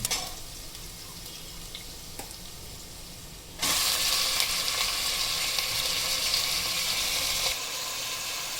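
Mutton hits hot oil with golden brown onions for a home-made Mysore mutton biryani, a loud sudden sizzle surging up midway and holding steady, with stirring scrapes before it and no talk.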